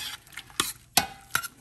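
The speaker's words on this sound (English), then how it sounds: "we're just gonna let this cook, let the vegetables soften" Vegetables for shrimp pasta cook and soften in a pan with a soft sizzle, broken by a few sharp scrapes and clinks of a utensil stirring against the pan; close and moderately loud, with no talking.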